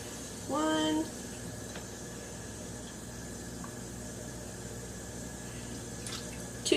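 Water poured from a measuring cup onto sugar in a bowl, a short bubbling trickle lasting about half a second, close and clear over a quiet room hum.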